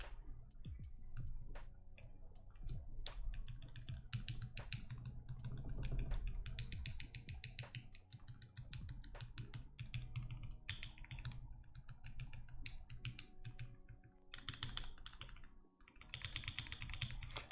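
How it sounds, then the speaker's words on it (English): Keys clatter on a custom Key65 mechanical keyboard with lubed switches, quick irregular bursts of crisp clicks and deeper spacebar thocks, close and fairly quiet, continuing for many seconds without any voices. "I like the way the spacebar sounds."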